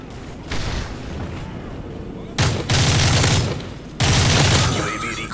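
Sustained gunfire in the video game Modern Warfare 3, dense bursts of automatic shots crackling loudly in two main volleys with brief lulls between, over a constant background of game noise.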